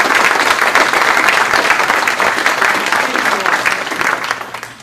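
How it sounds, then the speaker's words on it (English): Loud, sustained applause from a community crowd for the Friendship Automotive team fills the space, with dense clapping that gradually thins and fades toward the end. "So please give my team a round of applause."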